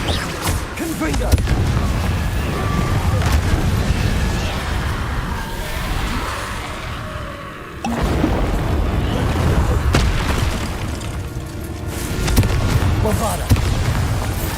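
Spell blasts from Confringo and other combat spells in the video game Hogwarts Legacy, dense bursts and booms running almost continuously with a brief drop near the middle, loud and close, with shouted voices mixed in.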